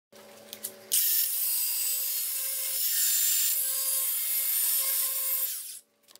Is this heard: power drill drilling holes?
yes